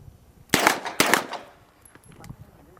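Two sharp gunshots crack loudly from an MP5 submachine gun on an outdoor military shooting range, followed by a softer echoing tail and faint distant shots.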